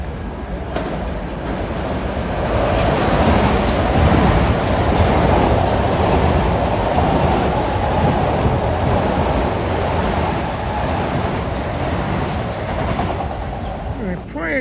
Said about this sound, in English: This is train 1535 coming through here on number 1 from New Haven.